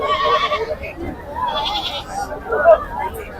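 Goats bleating in the crowded livestock market at Pebbair, several calls rising over a steady hum of people talking nearby.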